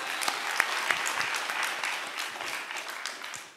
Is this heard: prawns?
no